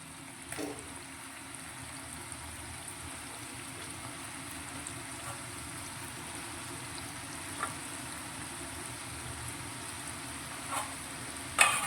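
Dough balls for a quick homemade sweet sizzle and bubble in hot oil over a low flame, a steady soft frying hiss with occasional faint clinks and stirs.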